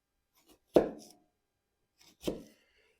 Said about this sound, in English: doing this like plunge cut like this, I kind of feel like the chef knife, the nCamp one, was a little bit easier to plunge into this